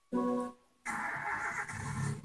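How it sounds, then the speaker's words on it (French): A video game car engine cranks briefly, cuts out, then catches and settles into a steady idling rumble. "Même pas si vous avez entendu le bruit de démarrage."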